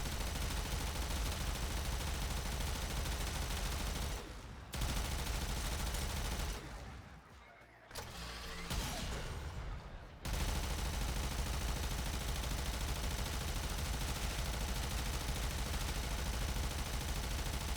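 Sustained automatic fire from an archgun in the sci-fi shooter Warframe, loud and continuous, broken by two short pauses before the barrage resumes at full intensity.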